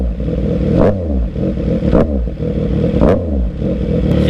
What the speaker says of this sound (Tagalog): Bomba natin ng sagad yung throttle.